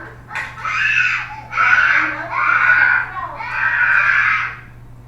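A child screams in several long, loud, piercing bursts with short pauses between them, close by, over a low steady hum.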